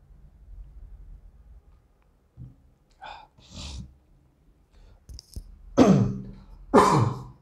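Several rough throat-clearing bursts, close and separated by pauses, the last two loudest and harshest.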